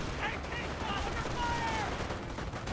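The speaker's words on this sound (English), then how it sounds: "Heavy enemy fire on our position." Battle gunfire in the World War II strategy game Company of Heroes, a dense crackle of rifle and machine-gun fire rattling continuously over distant explosions and a busy battlefield din.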